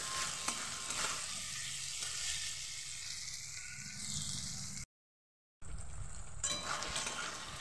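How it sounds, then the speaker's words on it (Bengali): Raw mango fries in a pan with turmeric and salt, a soft, close sizzle with spoon stirring and scraping. The sound breaks off briefly to silence, then the frying hiss resumes. "ভালোভাবে আমটাকে একটু ভেজে নিয়েছি আমি"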